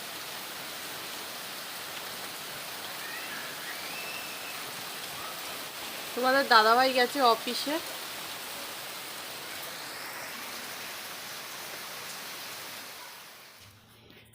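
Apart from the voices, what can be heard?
heavy rain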